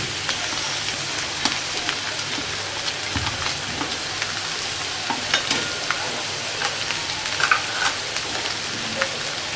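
Cabbage and mixed vegetables stir-fry for vegetable fried rice, with a steady close sizzle broken by repeated scraping and clattering stirs of a spatula in the pan.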